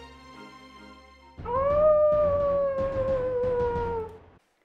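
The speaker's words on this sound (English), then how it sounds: "He ran around the kitchen yelping." A long canine howl rises and holds, loud and close, preceded by a low rumbling background and a few faint yips in the first second and a half, then ends abruptly.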